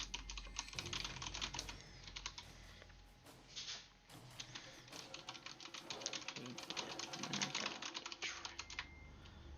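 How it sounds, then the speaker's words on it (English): Steady clicking of typing on a computer keyboard runs through the whole stretch, fairly close and continuous, with faint talk in the background. "I'm typing now."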